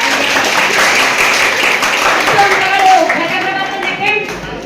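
Applause for a correct answer at a school maths quiz, a room of students clapping steadily for several seconds, with a voice talking over the clapping.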